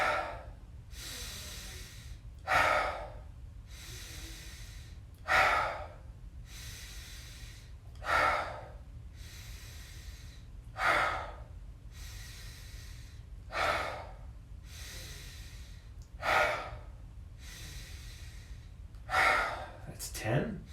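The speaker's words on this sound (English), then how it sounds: "We got 20 rapid, full, as big as we can inhales and exhales." A breathing exercise of rapid, full, deep inhales and exhales, each breath a loud whooshing rush repeating roughly every two to three seconds, close and steady over a low background hum with no talk.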